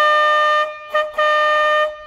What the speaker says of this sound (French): Un petit coup de klaxon avant de partir.